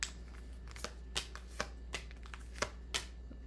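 Tarot cards being shuffled during a reading, a series of crisp riffling bursts roughly every half second, close and moderately quiet over a steady low hum.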